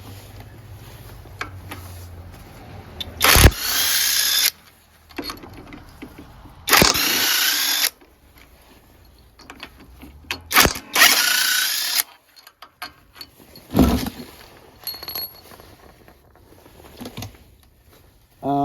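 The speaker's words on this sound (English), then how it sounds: "let's just get these head bolts off and check it out" Tool removing cylinder head bolts on a Kohler Courage small engine, heard as several loud separate bursts of whirring a few seconds apart, close up, with quieter handling noise between them and no talking.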